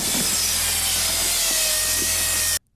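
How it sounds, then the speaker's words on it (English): A robot's chainsaw in the 1989 film Robot Jox gives a loud, steady buzzing whine with a faint rhythmic pulsing underneath, running for over two seconds before cutting off abruptly into silence. "That robot appears to have a chainsaw."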